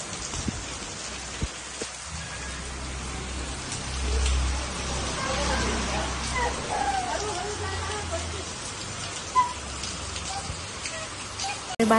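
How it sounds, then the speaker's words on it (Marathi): Heavy rain falls outside in a dense, steady hiss of drops pattering on surfaces, holding loud and continuous with a few sharper knocks and a faint low rumble. "खूप जोरदार पाऊस चालू आहे."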